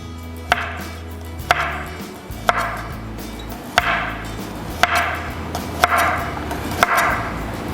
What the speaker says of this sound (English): next one is the garlic, right? Thin slice again